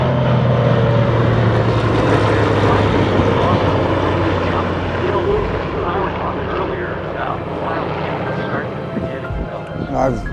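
A loud Grumman Wildcat propeller aircraft drones close by at EAA Oshkosh 2022, its engine roar slowly fading as voices chatter underneath.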